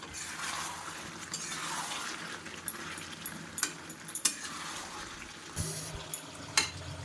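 Vegetables and potatoes frying in hot oil for a rohu fish curry, a soft continuous sizzle broken by occasional sharp clicks and scrapes as the pan is stirred.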